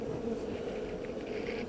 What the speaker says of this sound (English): We got bees up here.